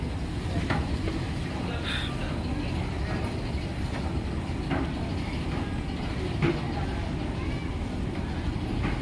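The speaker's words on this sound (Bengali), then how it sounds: "ছাড়বে মেট্রো, এসে অলরেডি দাঁড়িয়েই রয়েছে" A Kolkata Metro train stands at a deep underground platform, filling the space with a constant low rumble and hum, dotted with faint clicks and knocks, with indistinct voices in the background.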